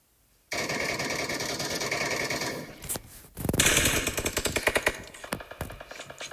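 Gunfire from the video game PUBG, aimed at a Dacia car: a sustained rattling burst of rapid shots, then a sharp louder blast followed by a string of distinct irregular shots that gradually thin out.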